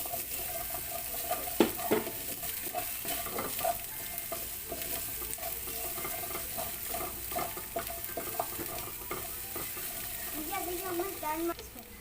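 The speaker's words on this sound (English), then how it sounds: "half garlic and half ginger, the remaining. Just saute." Garlic and ginger sauté in oil in a pan for a beef and broccoli stir fry, with a continuous sizzle and light scraping of a utensil across the pan. A voice can be heard faintly now and then.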